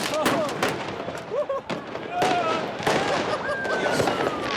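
Fireworks and firecrackers bang in a crowded town square, loud sharp cracks and pops in rapid irregular bursts with fizzing whistles, over a constant noisy crowd with voices and shouting.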